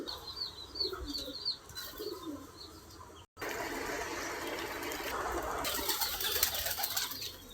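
Pigeons cooing in soft repeated phrases from a nearby roost or cage area, joined by brief wing flaps and light chirps, with a broader rustling wash building in the second half.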